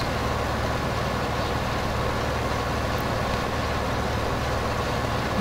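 Tractor engine in the video game Farming Simulator 15, a steady low droning rumble that holds constant and fairly loud throughout, with no talk.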